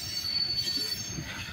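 A long freight train, apparently hauling coal or aggregate, rolls through a rail yard with a steady metallic wheel squeal over a low rumble, heard from a moderate distance.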